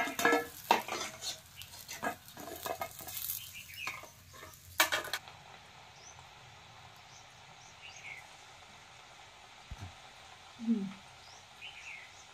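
Snacks fry in hot oil with stirring and scraping for the first five seconds, then a faint sizzle continues with a few soft clinks and chirps in a quiet kitchen.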